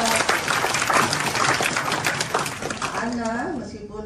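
Applause for the MC at a 20th-anniversary celebration of a Rosary prayer group, a steady wash of clapping from a crowd that carries on throughout, with voices talking over it toward the end.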